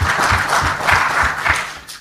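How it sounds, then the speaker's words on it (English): A business-forum audience applauds a panel, a dense, fairly loud burst of clapping with low thumping mixed in, lasting a couple of seconds. "A round of applause for my excellent panel."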